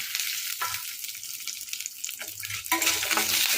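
Garlic and lentils fry in a pan for a ridge gourd chutney, giving a steady close sizzle with stirring scrapes that grows louder and brighter near the end.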